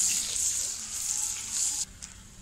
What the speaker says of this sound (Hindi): अब हम लहसुन अदरक को उस वक्त तक भूनेंगे लहसुन अदरक का कच्चापन खत्म हो जाए।